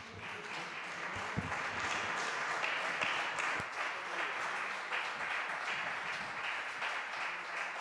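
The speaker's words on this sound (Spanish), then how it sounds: "Un aplauso también para él." An audience claps steadily for a flamenco singer from Lucena, Córdoba, and his guitarist before a night performance, a dense, even wash of applause throughout, moderately distant and without talk.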